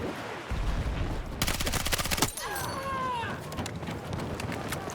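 Rapid automatic gunfire bursts from an MP7 submachine gun in the Battlefield 6 video game, a dense rattling volley in the middle of the clip with scattered shots and game noise around it, while a player talks over it.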